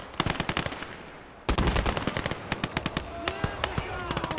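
Automatic gunfire from the Gates of Hell video game rattles in loud, rapid bursts of evenly spaced shots, with a brief pause before a denser volley. Someone talks over the shooting.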